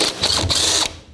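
A ratchet with a 12mm socket loosening radiator fan shroud bolts on a 2006-2012 Toyota RAV4: a brief, close burst of fast metallic clicking, loud and alone, lasting about a second.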